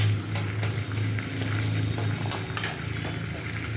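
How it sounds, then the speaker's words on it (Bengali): Whole dried red chillies, cumin and garam masala sizzle in hot oil, a steady close crackle and spitting that continues throughout with a few scattered pops and no voices. "গোটা শুকনো লঙ্কা আর জিরে আর গরম মশলা এটা তেলে ফোড়ন দিলাম"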